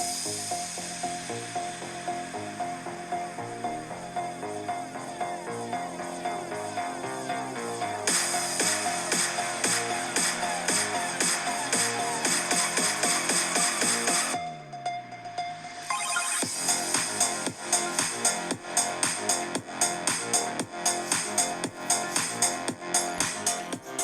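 Music plays at 80% volume through the two downward-firing speakers of a 2022 Lenovo Legion 7i gaming laptop, sounding full and steady with a brief dip midway before it resumes louder and more rhythmic.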